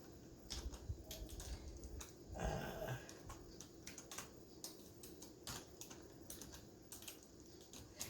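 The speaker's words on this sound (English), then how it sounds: "And I always type out long or width or whatever" Quick keystrokes on a computer keyboard, tapped in short irregular bursts at close range, with a louder rustle partway through.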